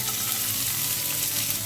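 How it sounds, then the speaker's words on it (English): Onions sizzle in hot oil in a pan for a homemade chicken burger. The frying hiss is loud, close and continuous, with no voices. "So now I will put some oil. Let this heat. I will add the onions into it."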